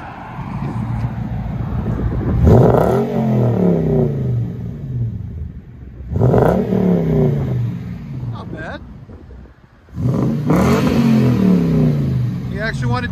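Toyota TRD 4x4 Sport engine with a big aftermarket muffler revs three times in loud, rising bursts about four seconds apart, each dropping back to a rumbling idle, with wind noise on the microphone.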